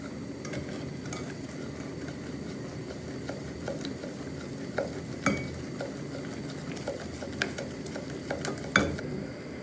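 A cake topping cooking in a pot is stirred with a utensil, making repeated scraping clicks and soft knocks against the pot over a low bubbling simmer, close but fairly quiet.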